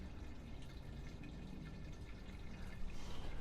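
Water drains steadily from a 1929 Ford in a constant close trickling flow, heard alone without voices.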